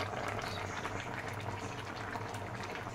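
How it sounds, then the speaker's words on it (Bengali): Bengali shukto vegetable curry boiling in a pot, a soft, continuous bubbling heard close and fairly quiet throughout. "শুক্তোটা কত সুন্দর ফুটছে টকবক করে"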